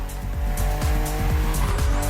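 A BMW CSL races in The Crew Motorfest, its engine roaring loud and close with a rising, falling pitch through gear shifts while tires squeal steadily underneath.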